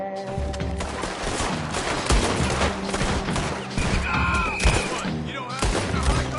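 Dense gunfire rattles through a PS4 video game battle, loud and close, with repeated sharp shots and bursts layered over other game sounds and scattered voices.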